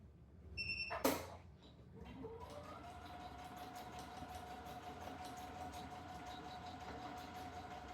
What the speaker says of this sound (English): I actually turn it with the needle down, sewing 1/4 of an inch.